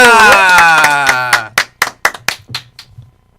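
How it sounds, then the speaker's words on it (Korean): At a Korean Christian music broadcast, a sustained sung or played tone fades out and gives way to about eight crisp, evenly spaced claps in a quick rhythm, close and loud, as the audience claps along. "박수로 듣겠습니다"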